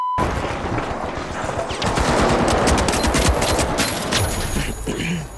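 Sustained automatic gunfire from a turret in the video game The Finals, dense rapid shots layered with impacts and booms, loud and close throughout.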